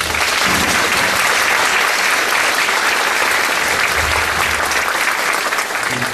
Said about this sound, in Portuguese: gostaria desde logo também de pedir uma salva de palmas para o nosso palestrante